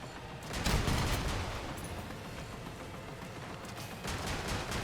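Cicada rocket launcher firing in a video game: a few sharp blasts with a louder burst early on and another near the end, mid-distance over a constant rumble of battle noise.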